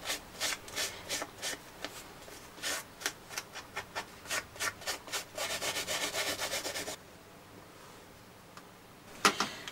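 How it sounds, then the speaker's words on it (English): Soft sponge or brush burnishing silver on a handmade card, a series of close, soft rhythmic rubbing strokes that speed up into rapid scrubbing, then stop, followed by near quiet and a single faint scrape. "with a nice soft sponge or a brush, you're just going to burnish up the silver and get rid of all the loose flakes"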